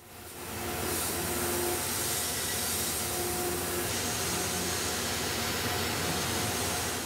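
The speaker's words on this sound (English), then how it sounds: "I'm using a ball end mill and a scallop toolpath to round that edge." A CNC mill with a ball end mill cuts a scallop toolpath to round an edge, giving a steady, continuous hiss and whine that runs unbroken and fairly loud throughout.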